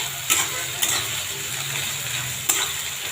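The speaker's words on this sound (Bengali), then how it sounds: "রসুনটা দিয়ে এখন ভেজে নেব।" Garlic and onions fry in hot oil in a pan with a steady close sizzle, broken by a few quick stirring scrapes, with no talking.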